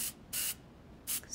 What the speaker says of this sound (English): give it a little test spray